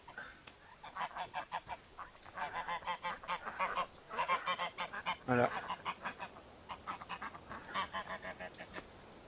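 Geese honk repeatedly in the Farming Simulator 15 video game, a flock's rapid, overlapping nasal calls that rise and fall in steady bursts at moderate loudness, with a single brief word spoken partway through.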